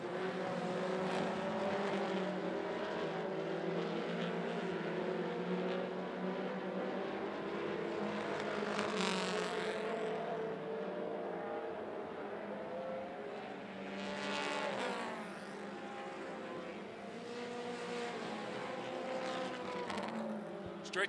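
Mini stock race cars roar around the oval at 411 Motor Speedway during a heat race, a dense continuous engine drone with cars sweeping past in waves, near and loud throughout.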